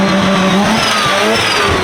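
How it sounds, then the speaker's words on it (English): Mazda RX-7 rotary engine running loud and close, a rough buzzing drone that holds steady through the short stretch with no voices over it. "The idle is insane on that thing."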